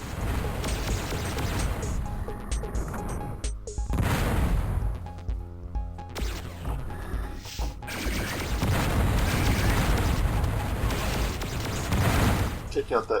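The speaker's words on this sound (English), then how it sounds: "Pass John is getting concussion missiles to the face" Concussion missiles exploding in the video game Descent, a barrage of heavy booms and crashing blasts packed together with brief gaps, while someone talks excitedly over them.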